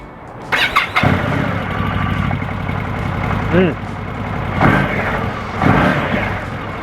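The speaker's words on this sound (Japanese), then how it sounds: "じゃあエンジンかけていきます" A 2024 Indian Scout cruiser motorcycle with smart key starting up, a sharp burst as the engine catches, then a steady idle with a few louder pulses and a short squeal over it; a voice speaks partway through.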